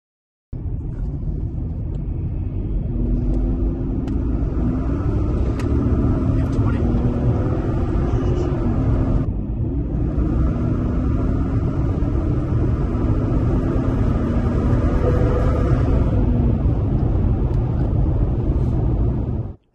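A tuned BMW X3 with a JB4 tune, new plugs, coils and intake on a test drive in map 1, its engine a steady loud in-cabin drone and rumble with rising harmonic tones as it accelerates, briefly dipping mid-run.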